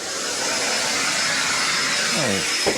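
A built-in vacuum cleaner aboard a Saffier SL46 sailing yacht roars loudly and continuously at close range, its motor tone shifting slightly near the end.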